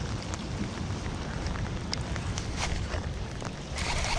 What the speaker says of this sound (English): now it's officially raining pretty hard